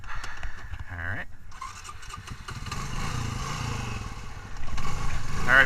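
A Honda Recon ATV engine drones steadily while towing a Honda Rancher ATV out of the Hassayampa River, growing louder and rougher toward the end.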